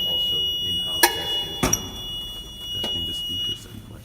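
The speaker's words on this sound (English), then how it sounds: "We're currently conducting tests of the fire alarm system." During a test of a building's fire alarm system, an alarm tone sounds steadily with a couple of sharp clicks and bursts, indoors and fairly loud.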